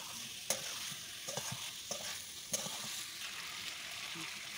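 Curry masala is stirred and sautéed in a pan while shrimp is about to be added, a steady close sizzle broken by several distinct scraping stirs at irregular intervals.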